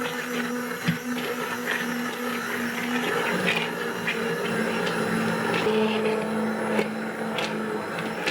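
An immersion blender whirs steadily through cooked apples to make applesauce, a continuous loud motor drone with occasional clunks as it knocks the pot, with no talking.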